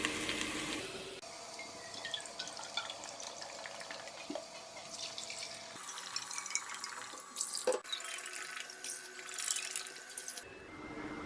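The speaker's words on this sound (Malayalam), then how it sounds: "അപ്പം ഞാൻ 4 കപ്പ് വെള്ളം ഒഴിക്കാൻ പോവാണ്." Four cups of water poured into rice for egg biryani give a quiet trickling and filling sound with a few drips, close by and with no one speaking.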